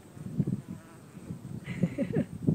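Honeybee guard bees and yellow jackets buzz at a hive entrance, a close, continuous insect drone with louder swells and a higher whine as wasps dart near the guards.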